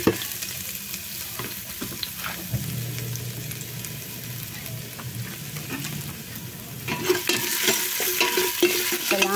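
Ginger and onion sautéing in a pan with garlic, a steady close sizzle with stirring scrapes that grows louder and brighter toward the end, no voices.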